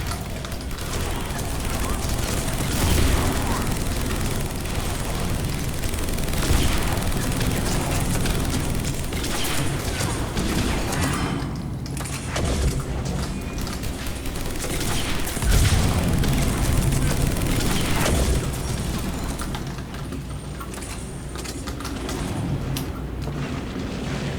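Typhoon gun firing in Mass Effect 3 multiplayer on Gold difficulty, a continuous dense barrage of booming shots and explosions under a talking voice.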